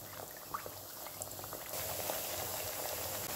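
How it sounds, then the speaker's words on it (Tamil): Thattai, flat fried snack discs, are dropped into hot oil and fry in a steady, bubbling hiss that grows louder partway through, with faint clicks over a continuous seething. "இப்போது இந்த தட்டையை ஒன்றொன்னையும் எடுத்து காஞ்ச எண்ணெயில் 1 by 1 ட்ராப் பண்ணிக்கலாம்."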